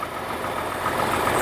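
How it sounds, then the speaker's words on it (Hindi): A car engine idles steadily with a dense mechanical hum and noticeable vibration, before fresh NGK spark plugs are fitted; the noise is continuous and close, growing slightly louder over a brief stretch with no talking. "और इंजन का नॉइज़ भी देखिए"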